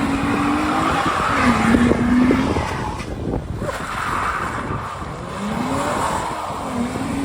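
At a car meet turned street takeover, a car's tires squeal in repeated long, rising screeches as the wheels spin, with an engine roaring beneath and crowd noise in the background.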